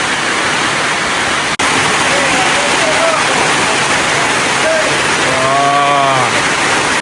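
Heavy rain pours down steadily as a loud, dense hiss that fills the whole clip, with a voice speaking briefly over it and a short break partway through.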